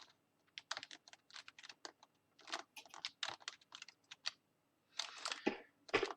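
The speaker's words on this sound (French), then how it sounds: "il faut que je tape ça" Bursts of rapid typing on a computer keyboard, close and quiet, with clustered keystrokes separated by brief pauses.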